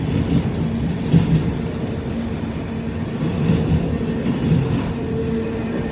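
A long loaded autorack freight train rumbling past close by on a wet day, a steady low roar with rhythmic clacking of wheels over rail joints and faint metallic squeals.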